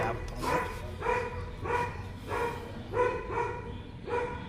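A dog barks repeatedly, about seven sharp, fairly loud barks at a regular pace, moderately close, over faint background noise.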